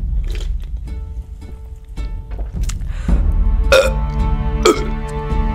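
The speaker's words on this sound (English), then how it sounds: "That did not come out as one continuous belch." A person belches after drinking seltzer water, the burp breaking into two or three short, croaky bursts rather than one long belch, close and fairly loud over a low background rumble.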